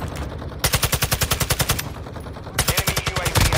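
Automatic gunfire in the video game Call of Duty DMZ: two loud, rapid bursts of shots with a brief pause between them, close and dominant.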